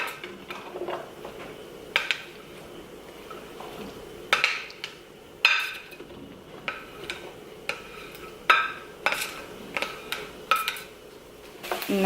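Mushrooms and onions cooking in olive oil in a pan, with a low background sizzle broken by sharp, scattered clinks and scrapes of utensils against the cookware.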